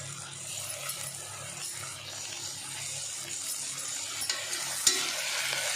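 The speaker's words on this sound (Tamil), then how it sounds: "இப்போ தக்காளி சேர்த்து நல்லா ஃப்ரை பண்ணலாம்." Soft sizzling of tomatoes frying in a pan with occasional scraping and stirring, fairly quiet and continuous, with a small clink near the end.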